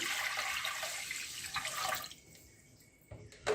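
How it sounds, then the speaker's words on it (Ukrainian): Water is poured into a pot of rice, a steady splashing rush for about two seconds that then drops away to quiet, followed by a faint clink near the end. "Заливаємо його водою."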